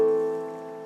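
A sustained synthesized chord built on la plays on a browser music tool, a clean, steady tone of stacked notes that fades gradually over under a second.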